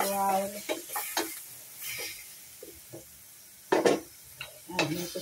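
Breaded pork chop frying in a pan, with soft sizzling under repeated clattering stirs and scrapes of a utensil against the pan, close and intermittent.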